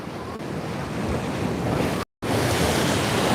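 Ocean waves surge and break at Spitting Cave, Hawaii, a loud continuous roar mixed with heavy wind buffeting on the microphone and a brief dropout midway.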